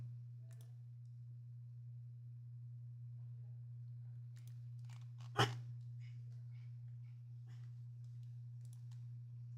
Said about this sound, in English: Excuse me for my dog.